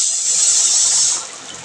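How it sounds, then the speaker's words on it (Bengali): Rice being rinsed in water for a Bengali home-cooked meal of dal and rice, a steady close hiss of running, splashing water that softens slightly toward the end, with no talking. "আর এই যে চালটা ধুয়ে নিচ্ছি।"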